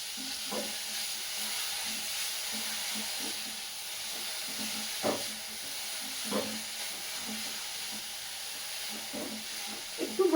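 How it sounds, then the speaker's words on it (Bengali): Broccoli with ground black pepper frying in a pan, a steady soft sizzle and hiss from close by, broken by a few clicks and scrapes of stirring. "একটু ভাজা ভাজা মতন করে নেবো"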